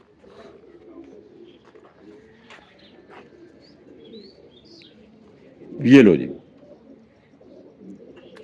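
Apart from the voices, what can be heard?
pigeon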